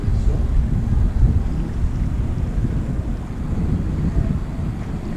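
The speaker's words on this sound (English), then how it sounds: "Motorboat coming past them." A motorboat passes along the Porec waterfront in Croatia, a low rumbling engine drone heard at a moderate distance and mixed with wind buffeting the microphone.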